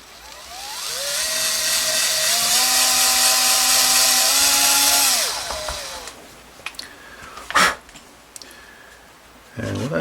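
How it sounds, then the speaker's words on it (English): Power drill with a self-centering bit boring screw holes through a Telecaster pickguard on an electric guitar, a loud whine that rises, holds for about five seconds and winds down, followed by a few scattered handling knocks. "I'm going to use this self-centering bit"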